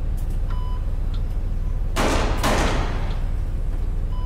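Gunshots in the video game Secret Files 2, set aboard a ship at sea, ring out as a couple of sharp, loud bursts in the middle of a quiet, humming background.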